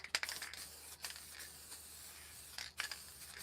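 Aerosol spray paint can applying clear coat across the bottom of a canvas in a cityscape spray-paint artwork, giving a steady broad hiss with a few short sharper bursts, close and alone.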